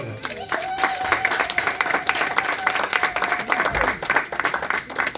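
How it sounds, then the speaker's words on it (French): A church congregation applauds steadily, a dense, fairly loud clapping crowd throughout, with voices and a faint sustained tone mixed underneath. "Est-ce qu'on peut acclamer pour le Seigneur?"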